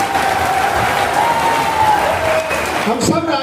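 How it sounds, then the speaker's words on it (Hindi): A live audience at a Hindi poetry recital claps in a steady, dense wash of applause that fills the whole stretch, with a voice carrying over the noise. "एक बार तालियां लगना चाहिए"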